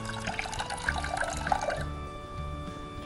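Water pours and splashes into a bowl of soaked pigeon pea lentils, a close, fairly quiet trickle with small drips, with light background hum.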